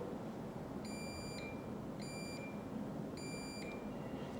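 Three short, bright beeps from a digital multimeter continuity test on its test leads, evenly spaced about a second apart over a faint steady hiss.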